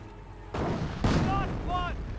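Mortar shells exploding on grenadier infantry in Company of Heroes, with two or three heavy booming impacts over a steady battle rumble and a commentator's voice talking throughout.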